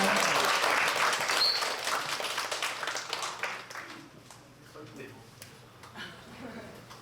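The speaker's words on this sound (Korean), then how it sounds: "큰 박수 다시 한번 부탁드립니다" Audience applause at a community future forum, loud dense clapping at first that fades over a few seconds while a speaker talks over it and continues once it dies down.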